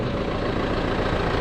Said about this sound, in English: I'm driving the tractor